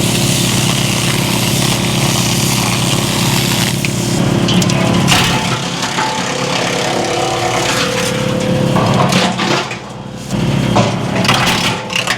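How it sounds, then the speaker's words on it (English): A loud, steady motor drone of an electric chainsaw cutting crooked wood pieces, with occasional cracks and shifts as it bites through. "Quick with electric chainsaw."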